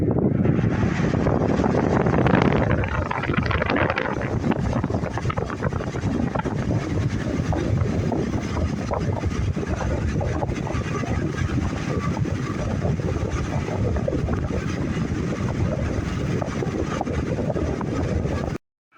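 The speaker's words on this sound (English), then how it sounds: "We're going to take a look again at what the airflow is coming off of this fan on high speed." A conventional AC-powered electric fan runs on high speed with a steady, loud, close-up whooshing roar of blade and airflow noise that stays constant throughout, with no talking.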